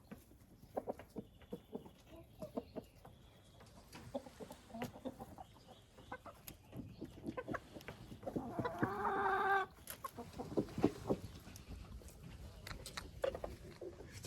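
Chickens, including a young Araucana pair, clucking at a treadle feeder inside a greenhouse, with scattered soft clucks and short calls from several birds and one louder, longer squawking call partway through.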